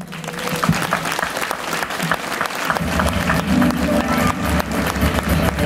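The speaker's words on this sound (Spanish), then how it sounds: "Fuerte el aplauso" Crowd applause for the presentation of a casino's queen at a coronation gala in Novelda, sustained dense clapping that swells and fills the hall, with a few louder claps standing out early on.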